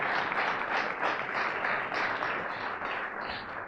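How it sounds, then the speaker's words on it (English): An audience at a university startup event gives a sustained round of applause, dense even clapping from many hands that stays fairly steady for several seconds without voices. "Can I have a round of applause for the set?"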